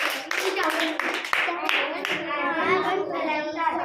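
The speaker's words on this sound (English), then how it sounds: "3 claps go." A group of children claps in a few sharp rounds of hand claps. Kids' voices talk over and between the claps throughout.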